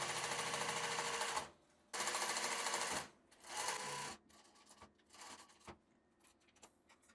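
A straight-stitch sewing machine sews the side seams of elastic-waist shorts in loud, close bursts, two long runs followed by a shorter one, then quieter handling clicks and rustles.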